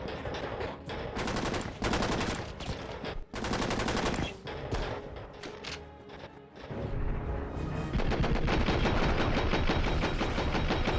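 Guns firing in the Enter the Matrix video game: loud, dense bursts of rapid automatic gunfire with brief pauses between volleys, ending in a sustained, continuous barrage.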